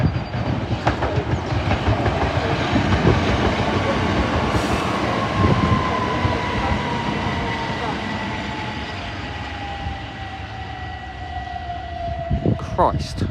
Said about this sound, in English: there goes 375619 on the 1217 to Ramsgate